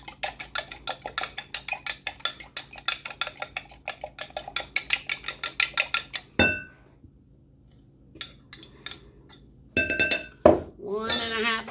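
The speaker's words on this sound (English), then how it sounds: "And I always beat the egg, especially for cornbread." A fork or whisk beats one egg in a bowl for cornbread batter, giving a fast, steady run of close, bright clinks for about six seconds, then brief scattered taps and clatters.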